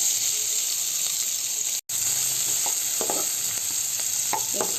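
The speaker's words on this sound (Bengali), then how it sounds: "এর মধ্যে দিয়ে দিচ্ছি পেঁয়াজ কুচি" Chopped onion frying in oil with cumin, cloves, cardamom and cinnamon, giving a loud continuous close sizzle with a brief dropout midway and light stirring knocks later, with no talk.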